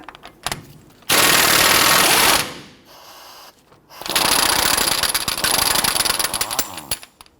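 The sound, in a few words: loosening Nissan Frontier axle nut with 32mm socket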